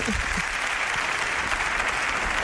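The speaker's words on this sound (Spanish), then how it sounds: "Os pido un aplauso para ella." An audience at a talk on strange religions and spirits claps steadily for journalist Sol Blanco Soler, a dense, even wash of many hands filling the room without pause.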